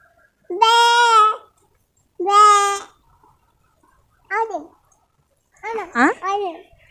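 A goat bleats four times at close range, with long wavering calls followed by shorter ones, and quiet pauses between them.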